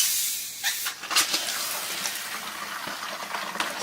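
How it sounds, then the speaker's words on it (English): Shaken club soda fizzes and hisses as it is poured over a cotton gauze air filter for cleaning, a close, steady effervescent sizzle with a few small splashes and no talking. "our trusty club soda that I've shaken up and got all over the place"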